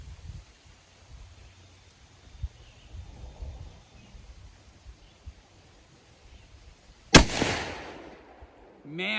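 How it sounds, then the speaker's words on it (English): A single sharp, loud rifle shot from a Remington 783 chambered in 22-250, fired at a target on an outdoor range, stands out against quiet background rustle and trails off into a brief echoing decay. "I'll show you where that shot hit."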